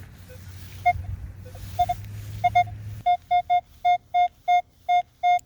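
A Minelab Equinox 800 metal detector sounds a clean, high beep as its coil sweeps over a target, first a few scattered chirps, then a rapid run of evenly spaced loud tones over faint ground hiss.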